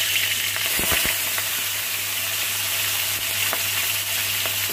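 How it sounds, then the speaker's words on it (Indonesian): Fish sizzles and crackles in hot oil in a frying pan, a steady frying hiss with occasional sharper pops, close and fairly quiet. "Oke, kita goreng dulu ikannya."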